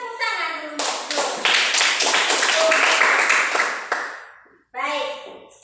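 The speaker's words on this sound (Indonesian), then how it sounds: "Tepuk tangan dulu untuk Jun." Students in a classroom clap in a short burst of uneven hand claps lasting a few seconds, with children's voices talking before and after the applause.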